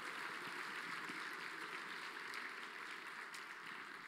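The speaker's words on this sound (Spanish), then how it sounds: "Denle ese aplauso con todo su corazón." A church congregation claps together at a sermon, a dense steady wash of applause sustained throughout, heard at some distance with no voices over it.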